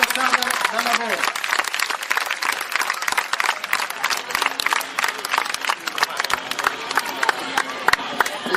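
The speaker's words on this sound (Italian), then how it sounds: "Un applauso all'associazione di Montosarda dal lavoro." A crowd at a Sardinian horse show in Oristano applauds and cheers in sustained, dense clapping, with an announcer's voice over it at the start.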